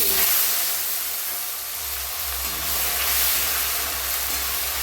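Chopped tomato tipped into hot oil already spiced with dried fenugreek and cumin, giving a steady, loud hissing sizzle that runs without a break and swells slightly toward the end, with no talking.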